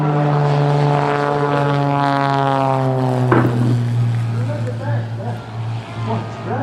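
Propeller aircraft flying aerobatics at a Durban airshow: a sustained engine drone with sweeping pitch changes as it passes, loud and fairly close, then fading into crowd noise and mixed background sound.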